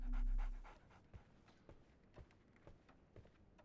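A dog in the Sherlock Holmes The Awakened video game pants in quick soft breaths, close and quiet, with light thumps scattered through.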